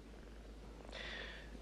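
A cat purrs softly and steadily over a low background hum, faint and close, with no talking.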